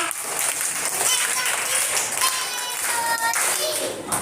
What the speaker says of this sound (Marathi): चला त्यांच्यासाठी जोरात तीन टाळ्या वाजवा